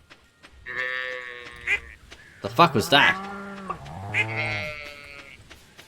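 Goats in the Stardew Valley farm game let out a few harmonic bleats at moderate loudness, spaced between and overlapping a man's surprised spoken remark.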